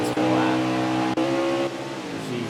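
Race car in a racing video game accelerating back up to speed off pit road at Chicagoland Speedway, a loud steady engine drone with harmonic whine, a brief dip midway, under faint voices.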